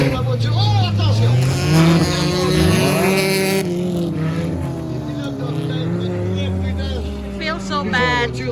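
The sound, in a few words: stock car race engines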